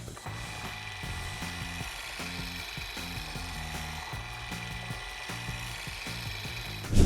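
A car polisher set to speed 3000 spreads compound across a car hood with a steady mechanical whir and faint rhythmic knocking, close and continuous with no talking.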